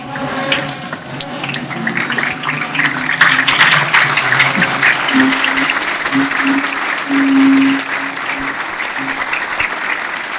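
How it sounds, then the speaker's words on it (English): A standing audience at a Model UN opening ceremony in Tanzania applauds loudly and continuously as the guest of honor approaches the high table, with a sustained tone humming underneath the dense clapping. "May we rise and give him a very big round of applause as he approaches the high table"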